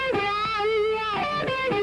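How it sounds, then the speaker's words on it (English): An electric guitar played through a wah-wah pedal and distortion, a sustained overdriven note whose tone sweeps and vowels open and shut, then a few picked notes, loud and close with no talking. "We've added a wah-wah pedal to our signal path here"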